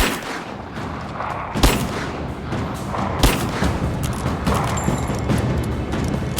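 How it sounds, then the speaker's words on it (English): Dense, continuous gunfire from a gun in the video game Rise of the Tomb Raider, with sharp louder shots near 1.6 and 3.3 seconds over a steady, loud, noisy wash of firing and booms, with no talking. "there is an unconfirmed rumor that wildly firing my gun, it scared the wolves away"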